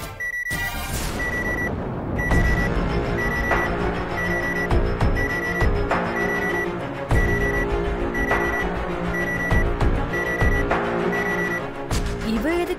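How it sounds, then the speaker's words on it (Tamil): An alarm clock rings in a home at an unexpected hour in a Tamil family drama, beeping in a steady, rapid repeating pattern that stays loud and close for several seconds. "இவ எதுக்கு இந்த நேரத்துல அலாரம் வச்சிருக்கா?"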